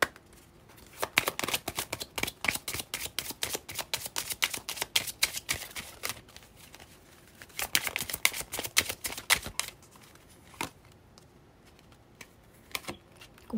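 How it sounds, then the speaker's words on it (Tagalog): Tarot cards being shuffled by hand: a dense run of quick, crisp riffling flicks in close bursts, pausing briefly and then resuming, near and clear with no talk. "Kuha lang ako ng baraha."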